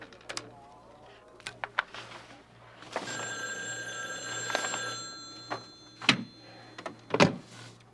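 A telephone bell rings loudly for a couple of seconds in the middle, surrounded by scattered knocks and clicks.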